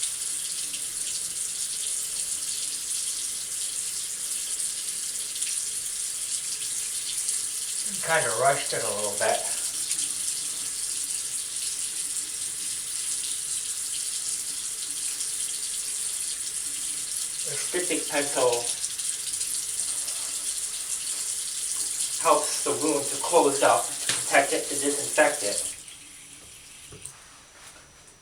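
A cold-water tap runs steadily at a bathroom sink during an old-school wet shave, a constant close hiss interrupted by short stretches of someone talking, then cut off abruptly near the end.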